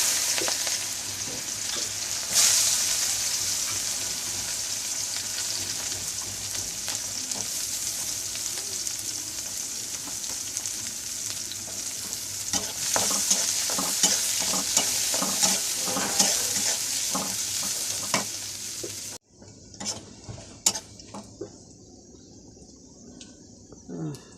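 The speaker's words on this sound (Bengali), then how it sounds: "এখন বেরেস্তা করবো" Onions frying in a pan for beresta, a steady loud sizzle with repeated stirring scrapes, the hiss dropping away near the end to leave a few faint clicks.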